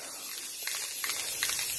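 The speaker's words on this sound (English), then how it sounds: "Spray paint, baby." An aerosol spray paint can hisses in short bursts while coating a tumbler close up, the spray steady and loud against a quiet background.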